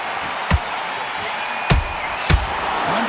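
Three sharp punch impacts land in the boxing video game Undisputed, spaced irregularly over a steady crowd-like background hiss, each a brief thud with a crisp attack.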